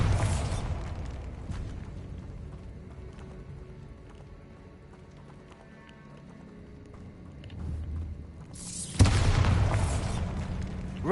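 A Bombarda blasting spell in Hogwarts Legacy erupts as a sudden loud, deep explosion near the end, following a low rumbling stretch of game ambience with faint thumps, and no talk over it.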